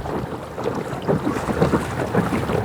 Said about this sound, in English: So if it's windy, I apologize.